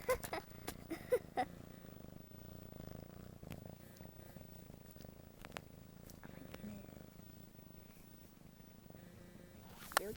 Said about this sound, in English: Why are you purring? There's nothing to purr about.